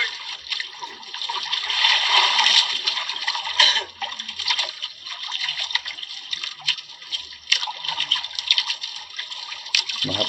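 Sea water splashing and trickling close by, a steady wet churn with brief louder splashes and no talking.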